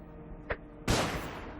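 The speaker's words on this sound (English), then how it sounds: "let's start with a flashbang grenade to set things in motion." A flashbang grenade in the video game UnderRail goes off with one loud, sharp burst that decays into a lingering roar, after a short faint click just before it.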